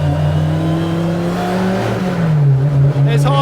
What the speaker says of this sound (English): there's a bombardment of sound on the sensors, that straight cut gearbox, the 45 Webers